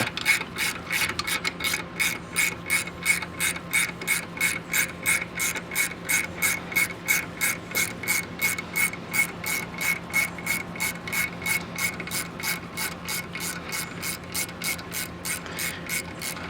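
A hand ratchet works on a 1999–2004 Mustang GT engine during a valve stem seal job, giving a steady, rapid, evenly spaced clicking that runs loud and close throughout.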